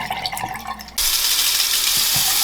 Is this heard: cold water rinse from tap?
yes